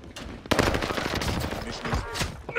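Bursts of gunfire in the video game Call of Duty Warzone Rebirth, sharp close shots over busy game noise, loud and continuous for a couple of seconds.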